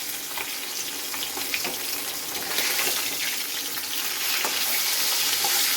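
Koi fish fry in a pan of hot oil, a bright, busy crackling sizzle that swells slightly over several seconds, with faint stirring and no speech.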